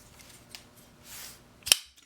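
Chris Reeve Tanto Umnumzaan folding knife blade snapping open, a single sharp metallic click near the end after a quiet rustle of handling.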